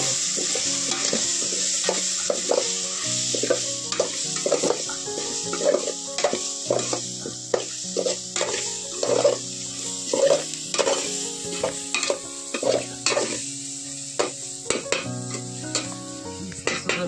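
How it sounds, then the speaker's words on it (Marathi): Chicken biryani masala gravy stirred in a pot over a wood fire: a utensil scrapes and knocks against the pot in an irregular rhythm above a steady frying sizzle, close and fairly loud, with no talking. "बिर्याणी मसाला आपण सगळं टाकायचं. एक पॉकेट चांगलं ढवळून"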